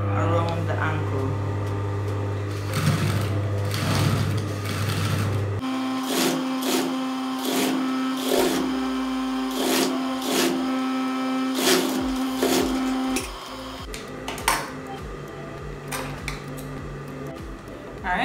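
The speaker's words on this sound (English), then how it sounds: "you're stitching right down here, right at the very edge of the elastic. And you do that going all the way around the ankle" A sewing machine stitches elastic around the ankle of a jogger pant, a close whirring hum with rhythmic clatter that runs steadily, pauses and resumes, while a person talks over it.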